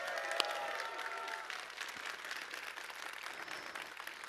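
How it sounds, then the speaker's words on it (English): Crowd at an AMD launch event during E3 applauding, quieter and somewhat distant, with one sharp loud clap near the start, a brief cheer, and steady clapping after it. "let's give him a big round of applause"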